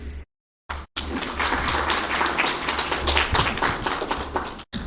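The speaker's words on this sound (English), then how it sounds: "Let's give them a round of applause again" An audience at a World TB Day commemoration claps steadily for several seconds after brief dropouts at the start, the applause dense and even throughout.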